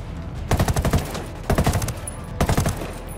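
Sniper fire in Ghost Recon Wildlands: three loud bursts of rapid cracking shots, each about half a second long and spaced roughly a second apart, standing alone without talk.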